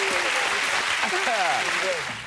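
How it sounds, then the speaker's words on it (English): Studio audience applause on a television talk show, a steady wash of many hands clapping with voices and laughter mixed in, fading slightly at the end. "That deserves a round of applause."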